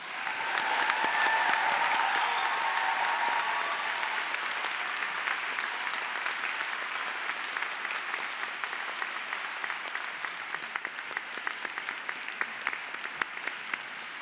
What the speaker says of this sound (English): I'm sure you would like to join me in giving them a warm round of applause